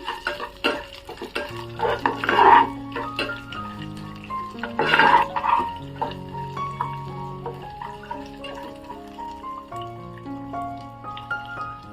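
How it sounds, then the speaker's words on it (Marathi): Onion sautés with roasted dal in a pan for South Indian kara chutney, with close spatula scrapes and stirring strokes rising in two louder bursts over soft tonal background music. "कांदा टाकायचा आपण चांगलं परतून घ्यायचं आपण"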